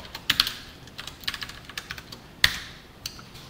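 Keys clatter on a computer keyboard in quick irregular bursts with a few louder taps, close and clear, with no talk.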